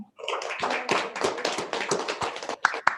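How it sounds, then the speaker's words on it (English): Applause from a small group at a state legislative committee meeting on environment and agriculture, with many separate claps blending into an uneven patter that stops abruptly, ending with a couple of loud, close single claps. "I think we'll all give you a round of applause if everyone is in,"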